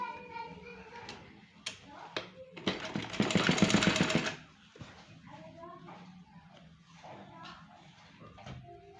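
A sewing machine stitches folded fabric for a boat neck kurti, a short burst of fast rapid whirring in the middle, with someone speaking before and after.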